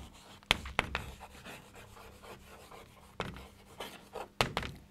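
Pen or chalk writing by hand on a surface, with scratchy rubbing strokes and a few sharp taps from the tip, close and fairly quiet, with no talking.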